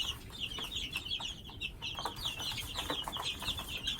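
Backyard chickens clucking around their coop and roost, a steady stream of close, moderately loud clucks and murmurs with no talking.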